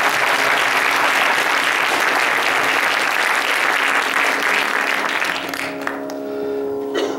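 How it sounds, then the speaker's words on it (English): A concert audience gives a mridangam player sustained, loud applause at a Carnatic music performance; the clapping holds steady, then fades away in the last couple of seconds. "Big round of applause for that."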